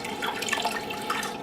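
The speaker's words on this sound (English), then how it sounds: "we'll just put that in the same cold water and swish it around for just a minute or two" Fabric being swished around in a tub of cold dye-rinse water for tie-dyeing, giving a steady, close, continuous sloshing and trickling wash of water with no voices.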